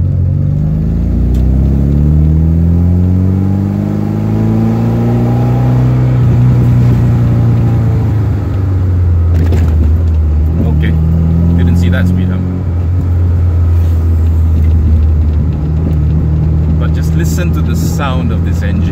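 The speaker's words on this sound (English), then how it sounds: "Sound of this engine." A 1979 Alfa Romeo Alfetta 2.0 engine runs loud and close on an evening drive, its pitch climbing through revs, easing off and pulling again through gear changes.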